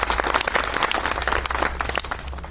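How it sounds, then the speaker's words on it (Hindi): A crowd applauds at a retirement party as a special guest takes a seat, with dense, loud clapping from many hands that runs without a break across the whole clip. "इनके लिए भी एक बार जोरदार तालियां दें।"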